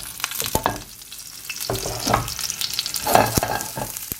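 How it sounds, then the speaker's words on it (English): Chopped onion and garlic sizzle in hot coconut oil, a steady bright crackle with sharp stirring clicks of a utensil scattered through, close and fairly loud, plus a brief spoken word near the start. "So I've chopped up a little bit of onion and garlic, so I'm going to fry it."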